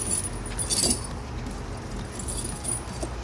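Metal snow chains are stretched over a car tire, giving a light jangling, clinking rattle up close, with a brief louder burst of chain noise near the start, then softer chinks.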